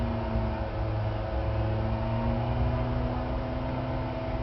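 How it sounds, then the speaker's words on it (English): A manual-transmission car engine held in neutral drones at raised revs in a steady, close hum with a constant tone and no talking. "I'll rev in neutral."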